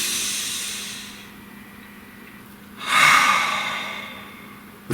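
Someone takes a single deep breath, a long audible exhale followed by a sharper, louder hissing inhale close to the microphone, with no speech.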